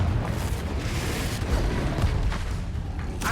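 A Confringo fire spell bursting in Hogwarts Legacy, heard as a dense run of low booms and rumbling blasts that carry on steadily and loudly with no quiet gaps.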